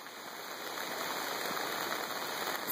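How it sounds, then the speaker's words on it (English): Steady rain patters and hisses on pavement along a driveway on Slopeview Road as it begins to ease off, a constant wash of light drops with no speech. "the rain is slowing down now"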